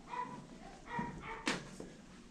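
A doodle dog barks several times in quick succession during a grooming session, close and fairly loud, with short whimpering yips between the barks.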